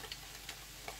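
Corned beef frying in a pan, a quiet steady sizzle with a few soft ticks and scrapes, heard alone.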